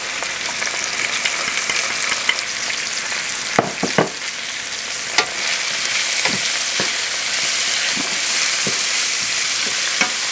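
Curry cabbage with yams and carrots sizzles loudly and steadily in a pan, a dense continuous frying hiss broken by a few sharp utensil clicks and stirring scrapes.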